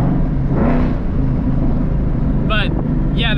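A 2011 Mustang GT with GT500 over-axle pipes and resonators deleted, its exhaust a loud, steady low rumble heard from inside the car, with brief voice sounds near the end.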